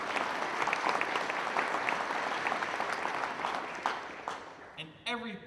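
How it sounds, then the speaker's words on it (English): A commencement audience claps steadily for several seconds, then the applause thins out and a voice begins speaking near the end. "You can clap for that."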